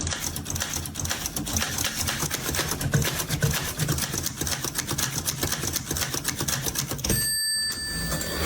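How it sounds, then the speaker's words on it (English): A typewriter keeps up continuous rapid key strikes, a dense clattering rhythm that stays steady and loud, with a brief pause near the end. "This guy made some art of Wimbledon using a typewriter."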